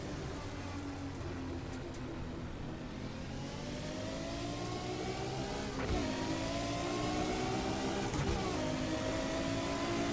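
A drift car from the DRM Revival mod pack in Assetto Corsa revs hard and steadily, its engine note climbing and falling through gear shifts with a couple of sharp breaks, loud and continuous throughout.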